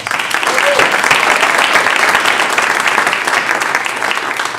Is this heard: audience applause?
yes